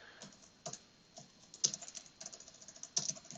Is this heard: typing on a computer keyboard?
yes